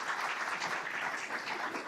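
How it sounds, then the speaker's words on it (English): Audience applause after a talk by the director of the USPTO, a dense, even wash of clapping from many hands, fairly quiet and continuous without breaks. "Let's give Hope a big round of applause."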